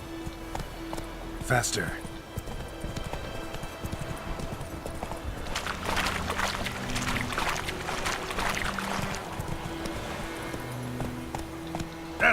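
Roach the horse gallops in The Witcher 3 video game with rhythmic hoof clip-clops, game music and ambience running underneath, while a person talks over the action.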